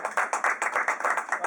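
Applause from the audience at a CPDM-UK section executive meeting at the Hilton Wembley, with fairly close, distinct hand claps in a quick, uneven rhythm from a modest group, no talk over it.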